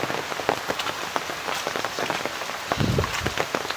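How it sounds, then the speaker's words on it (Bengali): Heavy rain pours down during flooding in Noakhali, Bangladesh, and drums on surfaces as a close, dense patter, with heavier splashes and a thicker low rush near the end. "আমাদের এদিকে খুব বেশি বৃষ্টি হচ্ছে।"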